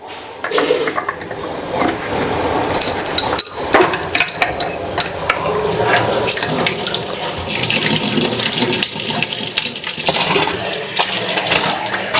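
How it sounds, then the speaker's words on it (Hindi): Kitchen tap running at full pressure into a sink, a loud, steady rushing gush of water with clattering splashes throughout, heard close and alone. "अभी देखो फुल स्पीड आना शुरू हो गया।"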